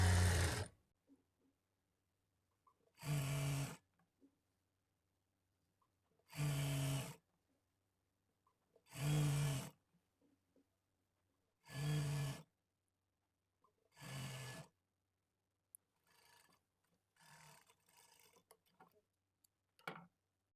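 A sewing machine stitches piping cloth onto a princess-cut blouse in six short, evenly spaced bursts separated by silence, followed by faint scattered handling clicks.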